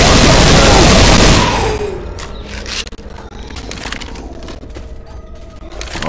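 Assault rifle firing in the video game Left 4 Dead 2: a loud dense burst of automatic gunfire up front, then scattered quieter shots and clatter from the game.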